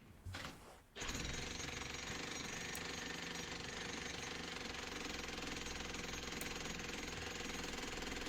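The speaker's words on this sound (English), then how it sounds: "when I switch to the smaller jackhammer, you'll see the big difference it makes between having this big one going" A large jackhammer pounds rock in a deepening hole, starting after a brief pause and then running in a loud, continuous rapid rattle close to the microphone.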